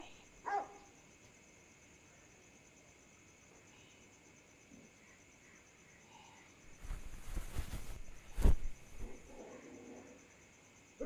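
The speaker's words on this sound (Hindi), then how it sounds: "तुम्हारे यहाँ के कुत्ते भी ना, मतलब जाड़े में आराम नहीं कर सकते, काटने को दौड़ते रहते हैं हर समय" Dogs in a village in winter bark in a short cluster of sharp yaps after a long quiet stretch with faint crickets, moderately close, with an early single bark.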